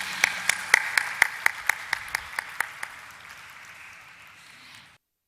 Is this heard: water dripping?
no